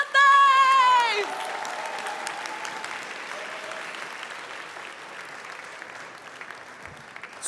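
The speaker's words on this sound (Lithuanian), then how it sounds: "Todėl mes pasitinkame juos gausiais aplodismentais!" Audience applause welcoming dance performers at a school anniversary show, a dense crowd clapping that follows a loud tonal musical sting and then fades gradually to a quieter patter.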